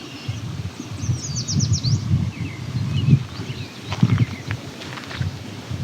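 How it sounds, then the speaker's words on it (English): An American robin sings faintly in the distance, a few thin whistled phrases rising over a low, steady outdoor rumble along rural backroads, with other bird chirps scattered through. "There's an American robin in the distance singing."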